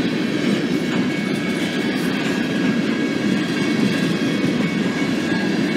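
A freight train passes on the rails in Walsenburg, Colorado, giving a steady, heavy rumble with rhythmic clickety-clack throughout, loud and close with no voices.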